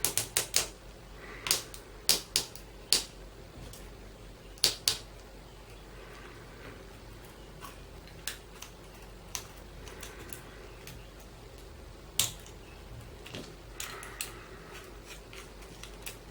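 Small cutters snip wires inside a Nintendo DS Lite during a repair, giving quiet, crisp clicks in irregular bursts, busier at first and sparser later, close in an otherwise still room.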